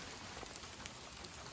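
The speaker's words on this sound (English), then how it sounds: "So it's still sleeting, and you can see this sleet looks like" Sleet pellets falling steadily along the Appalachian Trail, a dense continuous patter of small ice balls hitting nearby surfaces, close and even throughout with no voices.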